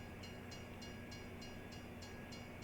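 A rental train moving in Farming Simulator 22 on the Angel Mountain map, a steady rumbling rail drone with a regular clicking beat repeating about every third of a second, constant and unbroken.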